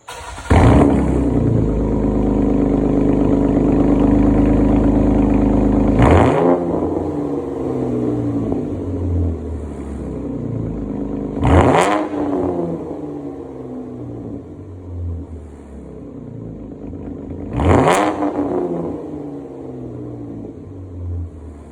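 A Jeep Cherokee KL with a straight-piped exhaust idles loudly with a deep rumble, then revs hard three times in separate bursts, each sharp rise falling back to a throaty idle, close and with no talking.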